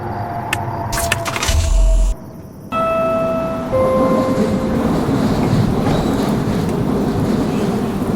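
A metro train pulls into an empty station from a dark tunnel: a loud rumbling roar with sharp hiss and clatter, then a drop and a steady rolling hum with brake tones as it slows and stops, no voices.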